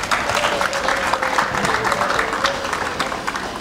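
Audience applause at an official ceremony of the Congolese control office in Bunia: a loud, sustained burst of crowd clapping with a faint tone running through it, tapering slightly toward the end.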